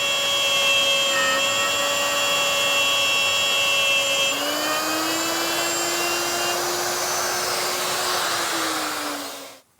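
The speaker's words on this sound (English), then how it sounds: "I've set up the router with a dovetailing bit and a collar" A router fitted with a dovetailing bit and collar cutting wood, a steady loud whining motor tone that shifts pitch midway as the bit bites, then winds down and stops at the end.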